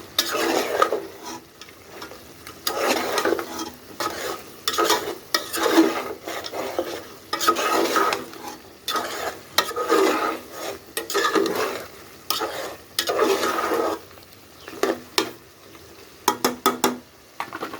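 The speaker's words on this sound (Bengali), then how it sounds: "তো এখন সুন্দর করে আস্তে আস্তে কষাতে থাকবো।" A spoon scrapes and stirs goat meat curry with potatoes in a pot, in repeated close strokes over a soft sizzle of sautéing.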